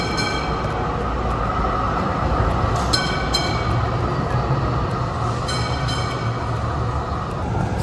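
A train rumbles loudly and continuously through Flinders Street station in Melbourne, with steady rolling noise and occasional faint metallic squeals over the busy station air.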